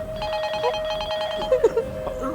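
A telephone rings in repeated electronic bursts for most of the clip, moderately loud, with brief faint voice sounds near the end.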